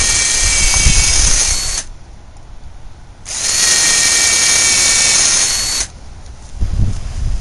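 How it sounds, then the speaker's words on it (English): A power drill bores pilot holes in wood while a gate is built, two long, loud high-pitched whirring runs of about two seconds each with a short pause between, up close. "I'm going to use a drill bit about half the diameter of the screws I'm using and create some pilot holes so we don't crack the wood"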